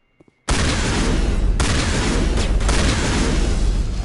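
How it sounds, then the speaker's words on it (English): A shotgun in the Mass Effect video game fires after a couple of faint clicks, bursting into a loud, sustained blasting roar that holds for several seconds like a beam weapon. "Good thing this shotgun is like a beam cannon."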